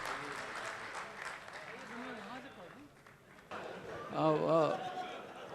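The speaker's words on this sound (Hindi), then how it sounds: "ज़ोरदार तालियों से इस्तकबाल कीजिए" An audience at a mushaira gives a poet a welcoming round of applause, with a steady patter of clapping under and after someone speaking.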